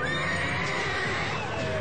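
A 1,400-pound stallion that has tumbled off a catwalk stage with a bride lets out a loud whinny, nearly masked by a dense, roaring crowd noise throughout the short moment.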